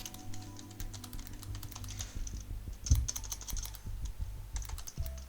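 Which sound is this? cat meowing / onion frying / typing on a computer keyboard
typing on a computer keyboard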